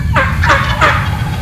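A wild turkey gobbles in reply to a hunter's call in a hardwood thicket, three quick rattling gobble bursts, fairly close, over steady outdoor background noise.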